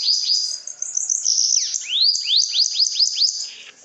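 A bananaquit sings at night, close and clear, repeating a rapid run of high, thin chirping notes in quick succession with no other sound.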